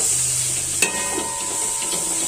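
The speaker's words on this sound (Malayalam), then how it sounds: "എന്നിട്ട് നന്നായിട്ടൊന്ന് ഇളക്കി കൊടുക്കാം." Chopped tomatoes sizzle in a hot pan for chicken biryani, a steady frying hiss with a brief utensil clink as they are stirred, close and alone without talk.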